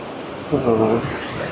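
Sea water washes around on Boracay beach on a windy day with a steady broadband rush, a soft swell rising briefly in the middle, heard close with a voice over it.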